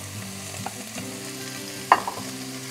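Bacon browning in a Dutch oven over low heat, a soft steady sizzle with light scraping and stirring clatter, one sharper utensil knock near the end, no voices.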